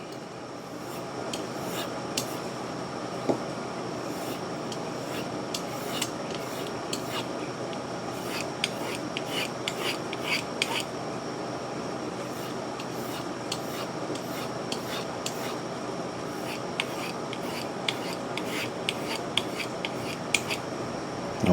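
An axe edge is stropped in quick repeated strokes, a steady rubbing rasp with sharp ticking scrapes in a fast irregular rhythm, close and alone throughout.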